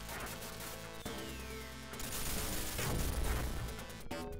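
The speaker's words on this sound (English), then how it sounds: "the explosions of the truck also hurt me" Truck explosions in the arcade game Ikari Warriors hit as sharp crashes inside dense, loud game audio. A sustained rumbling roar follows.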